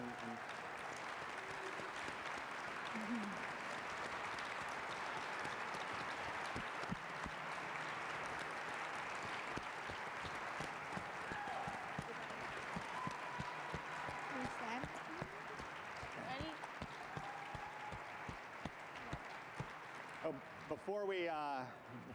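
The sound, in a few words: audience applause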